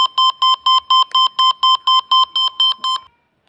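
Loud electronic beeps from a Satlink Vivensis ST 5260 satellite receiver pulse in a steady, rapid series of about a dozen short tones, then stop abruptly into silence.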